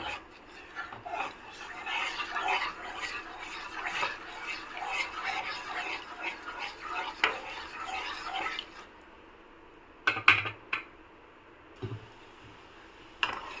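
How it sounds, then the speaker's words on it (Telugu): Sugar stirred in a pan until it melts for a soft carrot halwa, a steady scraping and crackling swirl for several seconds, then a few sharp clinks of the spoon against the pan, close up with no talking. "షుగర్ కరిగేంత వరకు ఇలాగా ఒకసారి కలుపుకుందాం."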